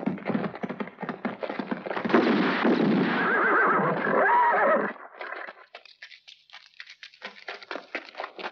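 A horse whinnies loudly and shrilly up close, followed by a rapid series of hoof clip-clops and tapping sounds as it moves off.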